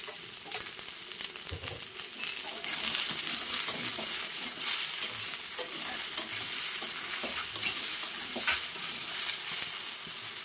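Taro stolons fry with onions and salt in a pan while a spatula stirs and scrapes, a steady sizzle broken by repeated close scraping knocks, continuous and fairly loud.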